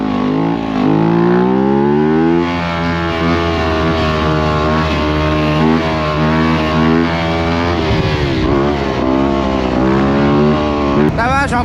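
A two-stroke motocross dirt bike ridden through city streets, its engine droning and revving continuously up close, with shifting pitch as it accelerates and backs off, a rider's voice occasionally over it.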